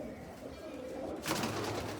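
A female pigeon coos softly nearby, low and brief, over a quiet background with a short rustle toward the end.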